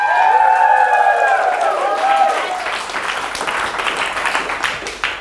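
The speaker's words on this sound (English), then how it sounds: "And would you please give a big round of applause to Jamie, who's now the first 2015 participant on stage." An audience at a larp summer school workshop applauds as a participant comes on stage. Clapping builds under loud musical tones at first, then continues as a dense, moderately loud patter.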